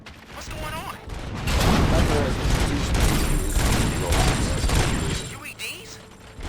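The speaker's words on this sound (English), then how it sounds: "Gunshots? What's going on?" Gunshots in the Robocop Rogue City video game crackle as a dense, loud volley of firing and impacts over several seconds, mixed with game effects and a voice talking.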